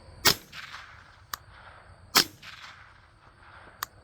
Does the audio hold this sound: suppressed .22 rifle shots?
yes